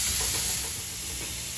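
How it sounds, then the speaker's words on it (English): Diced red onion sautés in a hot cast iron skillet, giving a continuous close sizzle and hiss with soft stirring scrapes beneath, steady throughout the short stretch. "you're just gonna saute these until they're a little bit caramelized"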